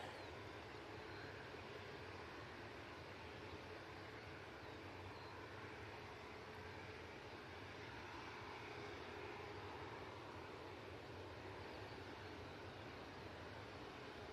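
A British Airways airliner comes in to land at Manchester Airport, its broadband engine roar holding steady and fairly distant throughout, with no voices over it.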